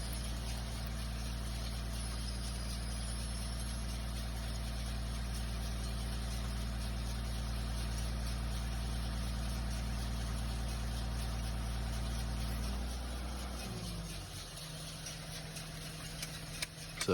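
An opal exploration drill rig's engine runs steadily in the Lightning Ridge diggings, a constant low droning hum that shifts pitch and settles lower near the end, heard alone at a moderate distance.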